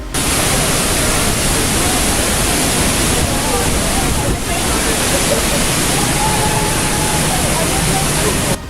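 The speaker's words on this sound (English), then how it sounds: "it was yet another waterfall, and this one was especially interesting as you had to go down a little canyon to get to it." A waterfall at the end of a small canyon in Iceland roars as a loud, steady, unbroken rush of falling water that fills the whole scene without pause.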